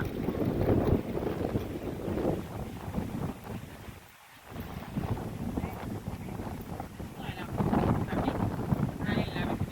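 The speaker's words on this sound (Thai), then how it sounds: "ลมแรงมาก" Strong gusting wind at sea roars and buffets the microphone, loud and steady with a brief lull partway through, with faint voices beneath.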